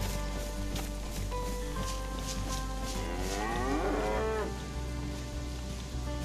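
A cow moos in the DayZ video game, a loud drawn-out bellow rising and falling near the middle, over steady rain-like ambient hiss and background game noise.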